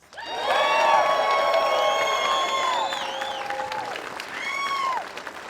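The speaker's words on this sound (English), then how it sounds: "Let's clap our hands for Paul McBeth." Spectators at the Disc Golf World Championships applaud and cheer for Paul McBeth, a swelling burst of clapping with whoops and high shouts over it, then tapering off.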